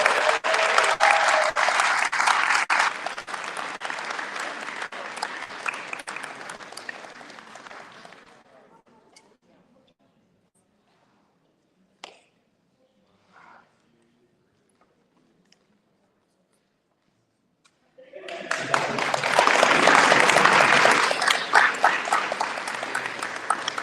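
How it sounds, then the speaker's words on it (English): An audience applauds at a community State of the District event honoring the Ocean Discovery Institute. Loud sustained clapping dies away into near silence, then a second strong burst of applause swells up near the end. "So let's give a big round of applause to the Ocean Discovery Institute."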